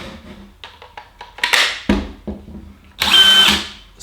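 A DeWalt 18V DCD996 brushless hammer drill fires in short trigger bursts of rising whirs, then gives one longer, louder spin near the end, up close with no speech.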